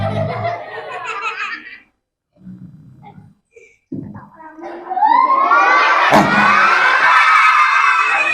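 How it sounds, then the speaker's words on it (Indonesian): Children at a religious gathering shout and laugh in a noisy burst, go briefly quiet with scattered voices, then erupt into loud sustained cheering and shrieking together. "Gak boleh teriak-teriak, nanti dia bangun loh."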